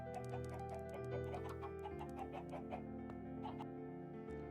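Chickens clucking in a video game, short repeated clucks scattered over a steady droning musical background, moderately faint and without talk.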